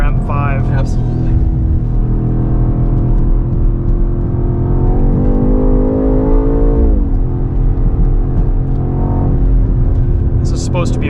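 A 2024 BMW X6 M Competition driving on a track, its engine droning steadily inside the cabin with a rising surge of revs midway, under continuous conversation between occupants.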